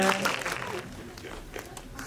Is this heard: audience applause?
yes